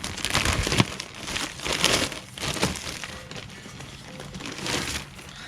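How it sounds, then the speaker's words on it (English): Packaging crinkles and rustles as a ceramic coated turbo header is unwrapped, with several bursts of crumpling and tearing, fairly close and without talk. "so let's get this header unwrapped"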